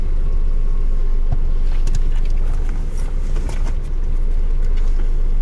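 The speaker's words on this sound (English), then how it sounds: "And Lucky's getting in the car." A car with someone getting in: a steady, loud, low engine and road rumble close by, with a few soft thumps scattered through it.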